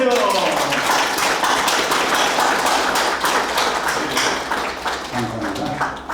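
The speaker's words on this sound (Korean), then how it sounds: "박수 한번 주세요." Sustained applause from an indoor crowd at a company's New Year opening ceremony and new president's inauguration, with a cake-cutting photo moment. Dense, steady clapping runs throughout, with some voices mixed in.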